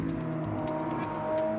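A Lamborghini Aventador S with its V12 engine holds a steady, loud mechanical drone with a faint whine, with no sharp rev climb, and no voices over it.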